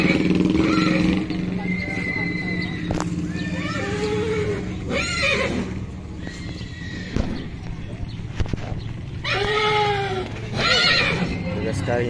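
Horses whinnying at the Tolo horse market, several shrill neighs at middle distance amid crowd bustle and passing motorbikes, with someone talking throughout.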